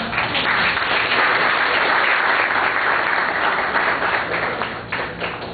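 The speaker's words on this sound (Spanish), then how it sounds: "Un aplauso." An audience at a morning forum-debate on agrarian reform and food problems in El Salvador breaks into sustained applause, a loud, dense patter of many hands that holds steady before easing slightly near the end.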